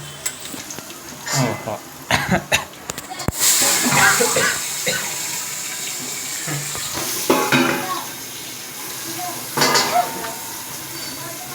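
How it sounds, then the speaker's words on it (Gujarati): Batata poha is tempered in a hot pan at home, with bursts of sizzling and stirring scrapes coming in waves, and a voice exclaims briefly over the cooking. "બટાકા પૌવાનો વઘાર કરે છે."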